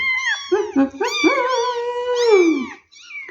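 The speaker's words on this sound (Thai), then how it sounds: "มาดูน้องเมียวน่ารักของเรา" A Thai mixed-breed kitten less than a month old, with a kinked tail, meows several times up close, loud and insistent, with drawn-out wavering cries and short gaps between them.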